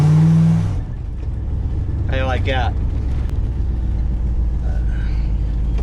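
An RV engine idling with a leaking exhaust gasket, a steady deep rumble that follows a short louder burst at the start, while someone speaks briefly over it.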